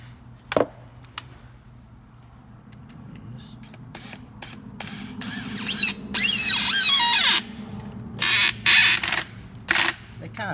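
Self-tapping bolts being threaded into a JLT cold air intake tube on a 2017 Ford Mustang 5.0, giving a few short bursts of close, gritty ratcheting and scraping over a low background hum, separated by quiet pauses.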